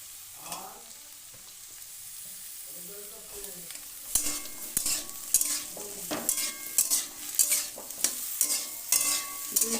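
Chopped bitter gourd and potato stir-fry in an oily pan. A quiet sizzle starts things off, then a spatula scrapes and stirs in repeated rhythmic strokes over the hiss, loud and close.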